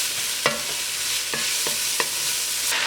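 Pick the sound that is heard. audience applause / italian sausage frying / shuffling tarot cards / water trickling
italian sausage frying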